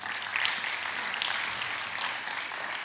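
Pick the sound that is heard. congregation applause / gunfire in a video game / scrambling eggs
congregation applause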